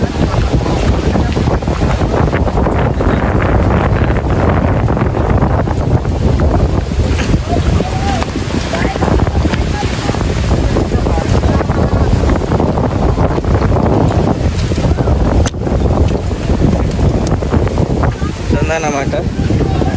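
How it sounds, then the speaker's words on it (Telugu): Strong wind gusts roar steadily through the Nallamala forest on a trek to Saleshwaram during a thunderstorm, a loud continuous buffeting rush across the whole clip with microphone wind noise and faint talk beneath. "మళ్ళా గాలి వస్తుంది ఇప్పుడైతే అసలు"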